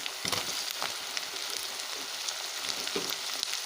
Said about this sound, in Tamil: வெங்காயம் வதங்கிட்டுருக்கு தக்காளி வதங்கிறதுக்குள்ளே